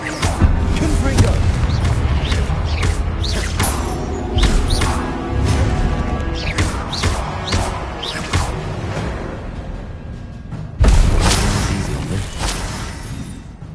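Confringo spell blasts in Hogwarts Legacy boom repeatedly in fast succession, dense explosive bursts with whooshes and thuds. A heavy impact lands near the end, and there is no speech.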